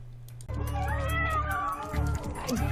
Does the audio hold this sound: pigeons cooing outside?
no